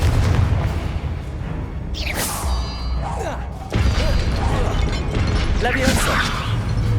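Confringo blasting spell from Hogwarts Legacy going off as a booming explosion with crashing debris, followed by more heavy impacts and mechanical clatter, loud and close, with a voice calling out spells over it.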